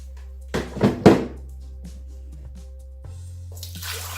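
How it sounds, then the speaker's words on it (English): Hot water pours into a cooking pot in a home kitchen, a short splashing gush followed by a softer trickle, set against a steady low hum and a few clunks. "I'm going to pour the hot water first because I have some hot water"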